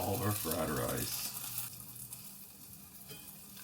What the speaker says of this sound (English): You're just going to flip those onions right before we go and add all our fried rice.